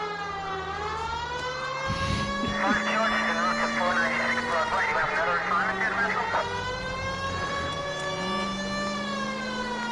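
A police car siren wails continuously in the LA Noire video game, loud and steady over engine rumble and a brief horn, while someone talks over it.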